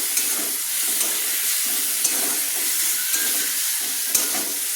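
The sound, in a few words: stirring fried peanuts into cooked banana flower mixture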